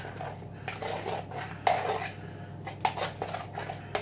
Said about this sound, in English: let's give it another little stir, a whisk.